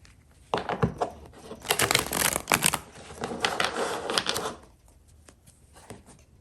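Playing cards are shuffled close up in quick riffling bursts, followed by a few softer taps and slides as the deck settles.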